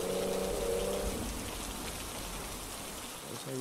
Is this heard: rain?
yes